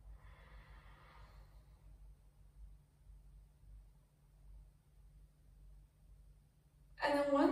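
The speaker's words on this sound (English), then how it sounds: "So take a deep breath in." A slow, deep breath drawn in during a yoga breathing exercise, soft and airy at first, then a long quiet stretch of low hiss before a sudden louder sound near the end.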